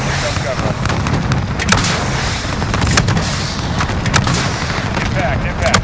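Air strike impacts and gunfire in Call of Duty: Modern Warfare, a loud, dense wall of booming blasts and crackling shots, continuous and close, with radio-style voices speaking over the din.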